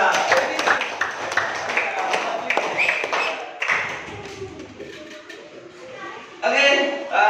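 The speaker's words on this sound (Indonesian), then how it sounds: "Tepuk tangan untuk Mbak Ira." A classroom claps for a student, with quick irregular claps through the first half under an adult voice. A brief burst of clapping comes near the end.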